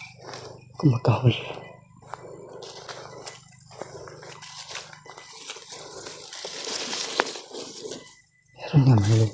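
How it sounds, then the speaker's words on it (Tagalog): A dog barks a few times, short bursts near the start and again at the end, sounding fairly close, with someone talking in between. "Parang may kumakahol."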